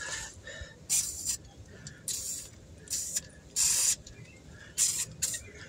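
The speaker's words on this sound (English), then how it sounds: "Let's spray all these real fast with this WD." Several short bursts of WD-40 aerosol spray hissing close by, irregularly spaced, with quiet background noise in between, while reassembling an alternator install on a 2008 Hyundai Accent.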